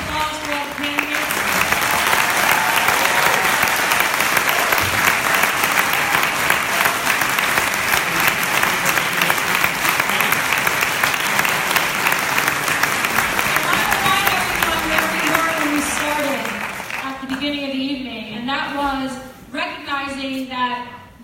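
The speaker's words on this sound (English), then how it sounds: "Can we get a round of applause for all the candidates?" A large audience applauds loudly and steadily for many seconds, then the clapping fades as a voice begins speaking near the end.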